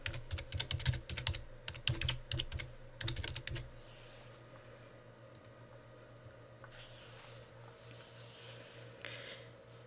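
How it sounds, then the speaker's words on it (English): Rapid bursts of computer keyboard typing, quick clicky keystrokes in clusters while entering a website address, then it fades to a quiet room hum with a few stray taps. "we're going to start out by just typing in the address of our lab website"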